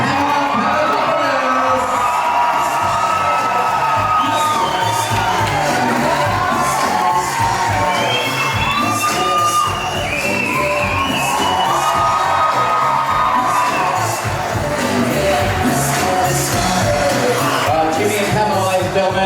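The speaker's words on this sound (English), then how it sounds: "let's give them a nice big round of applause" Wedding guests cheer, whoop and applaud loudly for the bridal party, a dense sustained crowd roar with shouts and children's yells throughout and voices mixed in.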